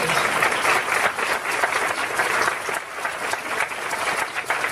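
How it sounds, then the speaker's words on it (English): Sustained applause fills a hall as an audience at an annual professional conference's opening ceremony thanks the organizers, a dense steady wash of many hands clapping at close range with no break. "Let's give them a round of applause to say thank you for the hard work and"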